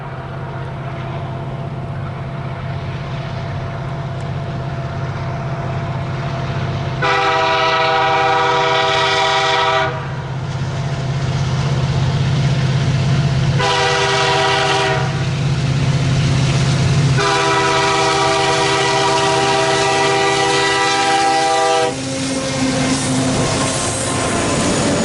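A CN manifest freight train, A442, sounds its horn at Bircham Crossing on a winter prairie line in Alberta, giving long loud blasts in a crossing pattern over a low steady engine and rail rumble.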